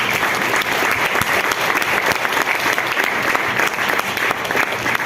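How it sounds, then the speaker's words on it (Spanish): A church congregation applauds during a sermon. The loud, dense clapping from the crowd fills the whole stretch at steady strength. "Vamos a darle un aplauso al Rey."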